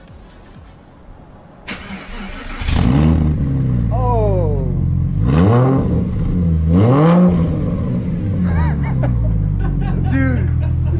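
A Porsche Boxster fitted with race headers and a possible exhaust leak cranks and fires up, then gives several sharp revs that rise and fall over a loud idle, close by. A person exclaims and laughs briefly.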